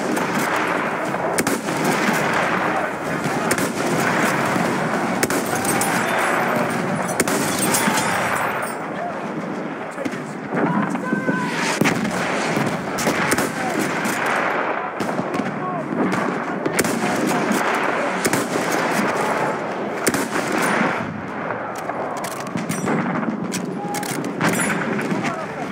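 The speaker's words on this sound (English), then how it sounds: "machine gun over there." Machine gun fire in a video game rattles in dense, continuous bursts throughout, loud and close, with a player's voice talking over the shooting.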